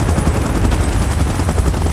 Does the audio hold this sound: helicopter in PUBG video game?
yes